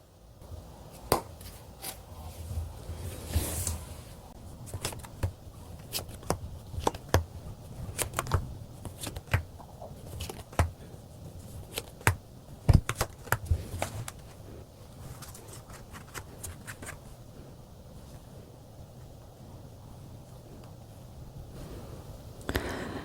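Tarot cards are shuffled and drawn, giving soft, continuous riffling and patter with scattered crisp flicks and taps, quiet and close, with no voices.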